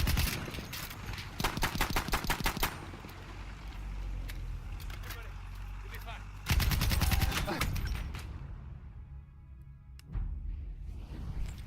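Rapid bursts of gunfire in the Battlefield 1 squad breakthrough mode, with volleys of shots and a heavy blast near the middle, loud and close, fading to quieter distant fire near the end.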